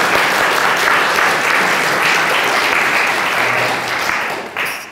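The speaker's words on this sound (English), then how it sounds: "And I'm going to ask everyone to give a big round of applause." A lecture audience gives a big round of applause after a talk on a Lurgan linen company's history, dense continuous clapping that holds steady for several seconds before tapering slightly at the end.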